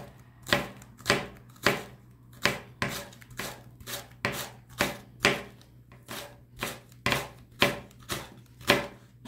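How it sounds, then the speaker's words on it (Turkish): Green onions chopped finely with a knife on a cutting board, a steady run of about fifteen crisp, evenly spaced chops close up, with a low steady hum underneath. "Taze soğanlarımızı çok ince doğruyoruz."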